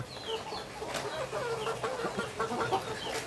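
A backyard chicken on a home fish farm clucks in short, soft bursts, close by but fairly quiet against low outdoor background noise, with no one speaking.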